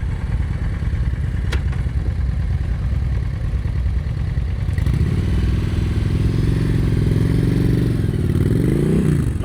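A motorcycle rides at slow speed during a riding skills practice session in Texas, its engine loud and steady with clattering and scraping, shifting to a fuller mid-pitched drone with a brief rev near the end.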